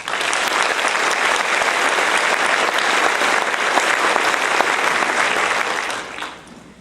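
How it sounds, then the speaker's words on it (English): Sustained applause from a crowd at a college graduation ceremony fills the room, loud and steady for several seconds before tapering off at the end. "So let's give them a round of applause."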